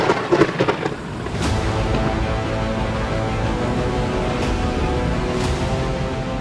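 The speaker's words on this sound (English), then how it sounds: "terrifying storm suddenly descended upon the firth. The ferocious winds wrecked many of our ships" A violent storm with thunder, wind and rain, a loud rolling rumble and crackle at the start settling into a dense, steady roar of wind and rainfall, with no voices.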